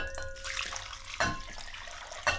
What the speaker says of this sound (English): we have hot water with the sterilizing mixture mixed into it